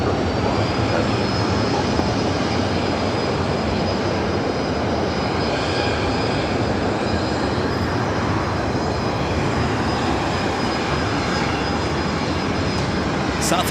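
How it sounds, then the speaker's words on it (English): A Southwest Airlines Boeing 737-800 at LAX, bound for Las Vegas, gives a steady, loud broadband engine roar with a faint high whine, continuous throughout and unbroken. "Southwest Airlines flight 2920, 737-800 heading to Las Vegas."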